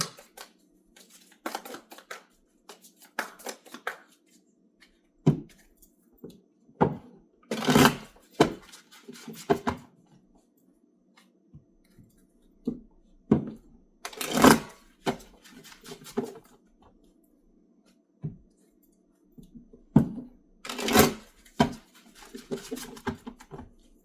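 Tarot cards being shuffled close up, producing a series of crisp, papery riffling bursts and soft taps in irregular clusters, with quiet pauses between them and no talking.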